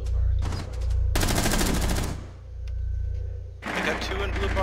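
Bursts of automatic gunfire in Rainbow Six Siege on the Coastline map: two loud rapid volleys separated by quieter stretches, with game ambience and voice chat running underneath.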